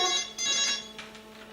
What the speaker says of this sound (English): the kettle whistling, the telephone ringing,